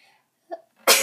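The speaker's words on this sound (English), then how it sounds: "Sneeze there." A single sharp sneeze bursts out near the end, after a faint breathy intake and a brief vocal catch, otherwise quiet around it.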